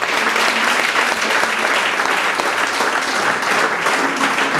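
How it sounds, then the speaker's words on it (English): A group bursts into loud, continuous clapping for their team during a confidence-building activity, a close, even stream of hand claps that fills the whole stretch without pause. "So clap for your team first of all."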